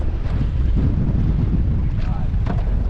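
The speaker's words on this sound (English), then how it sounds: "White caps, windy for sure, 10 plus mile per hour winds already." Strong wind buffets the microphone on Lake Tahoe, with whitecaps and winds over ten miles per hour, a loud continuous low roar with gusts and faint water noise beneath.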